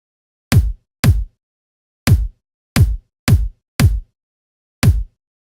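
Seven punchy, heavily processed EDM kick drum hits from a sample pack, played alone at an uneven pace with short, clean decays and silence between strikes.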